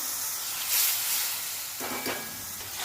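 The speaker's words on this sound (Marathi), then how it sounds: "मसाला भाजून घ्यायचा म्हणजे मसाला करपत नाही" Masala roasting in a pan for a dhaba-style sev bhaji gravy, giving a steady close sizzle and hiss with brief louder crackling bursts partway through, no voices.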